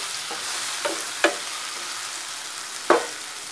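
Onion, tomato and curry leaves sizzle in a pan for chicken liver masala, a constant close frying hiss broken by a few soft scraping stirs.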